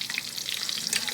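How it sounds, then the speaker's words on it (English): Chicken cutlets sizzling in a frying pan on a home stove, a steady crackling hiss of hot oil heard up close with no voices. "And I'll flip the cutlets over here."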